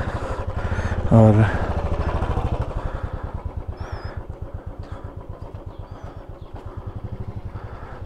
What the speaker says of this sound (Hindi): यहीं पे बाइक लगा देते हैं।